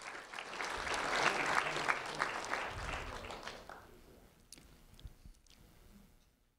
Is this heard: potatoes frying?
no